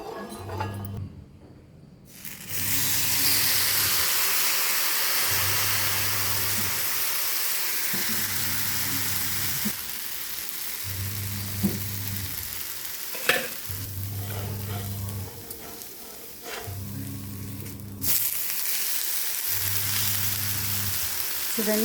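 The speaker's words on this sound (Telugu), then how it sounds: "1 అవర్ నానబెట్టాక ఇప్పుడు దోశ వేసి చూద్దాం. ముందుగా దోశ ప్యాన్ మీద ఇలా ఆయిల్ పూసి" Ragi dosa batter sizzles steadily on an oiled dosa pan, a continuous close frying hiss with occasional clinks and scraping touches, with no talking.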